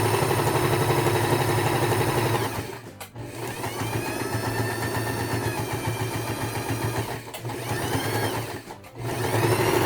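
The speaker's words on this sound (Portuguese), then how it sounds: "Agora eu vou passar uma costura com um pezinho de máquina em toda a volta." A sewing machine runs a continuous stitching seam around the edge of a fabric vaccination-card holder, its steady whirring motor loud and close, briefly slowing and pausing twice before picking up speed again.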